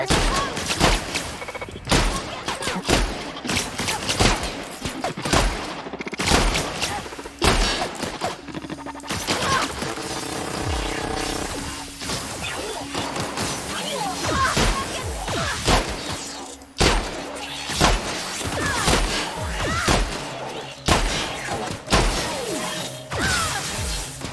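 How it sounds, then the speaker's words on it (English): Shotgun fire in the video game The Outer Worlds: repeated sharp blasts and crashing impact effects over busy, continuous game sound, loud and close with no talk. "I'm gonna be using a shotgun."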